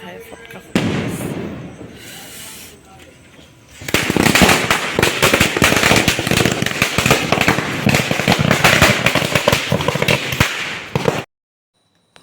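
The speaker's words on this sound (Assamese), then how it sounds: "মুন্ধাই ফটকা ফুটাইছে" Firecrackers burst during Diwali night: a quieter lead-in gives way to a dense, loud barrage of rapid crackling pops and bangs that runs for several seconds, then cuts off abruptly.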